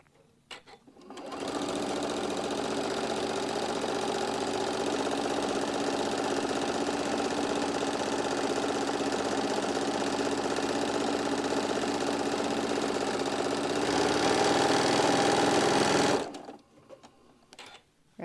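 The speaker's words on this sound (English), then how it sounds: "we're going to start sewing it all the way around" A sewing machine runs continuously for about fifteen seconds, stitching all the way around pieces of fabric with a steady, close mechanical whir that stops abruptly at the end.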